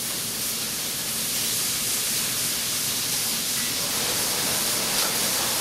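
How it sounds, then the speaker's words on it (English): Bacon sizzles in a pan on the stove, a steady, dense hiss of frying fat that holds evenly throughout with no talking. "Just make sure it's broken up, drop it in there, let it fry."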